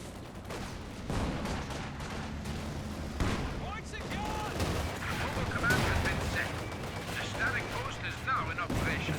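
Gunfire and battle noise from Company of Heroes 2, a Volkswagen vehicle taking fire among infantry fighting; a dense, continuous mix of shots and rumbling over a steady background, with a voice talking through it.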